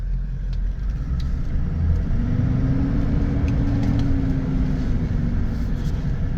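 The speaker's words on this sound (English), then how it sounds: "And there goes my hunting truck." A Toyota Land Cruiser hunting truck drives away, its engine a steady low rumble that holds constant and fairly loud over several seconds, with no voices.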